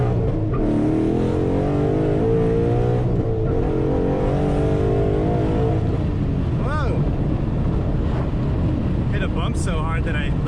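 Ford Mustang GT accelerating hard on a rough road, a loud sustained engine roar heard from inside with heavy wind buffeting, the pitch rising through the gears, while a voice speaks briefly near the end.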